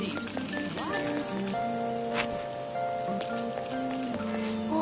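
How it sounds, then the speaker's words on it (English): Steady rain in the video game Persona 5 Royal hisses and patters throughout, set under layered synth music tones with faint background voices. "rain is so annoying. Sounds fake to me."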